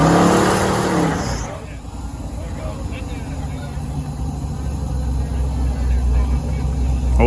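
A car does a burnout at a lowrider show with pro wrestling, tearing up a tire with a sustained roaring engine and screeching rubber that grows toward the end, with a crowd or voices heard early.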